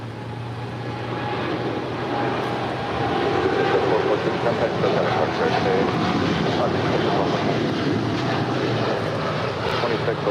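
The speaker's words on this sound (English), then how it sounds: "2614 departing to Newark Liberty. It's a 787-10 Dreamliner." A United Airlines Boeing 787-10 Dreamliner departs LAX for Newark, its engine roar building after a few seconds into a sustained, loud rumble, with some talk faintly mixed in.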